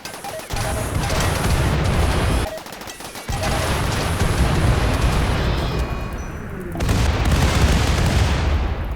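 Chemfuel barrels exploding in Rimworld, a loud continuous barrage of booms and crackling blasts that breaks off briefly twice before resuming, dense and close with no talking.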